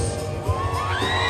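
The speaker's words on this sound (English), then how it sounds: "Boudreaux, Calgary, everybody's screaming." Outdoor crowd screaming and whooping at a stunt dog show at the Calgary Stampede, a loud, rising mix of shrill cheers, whistles and a brief bang.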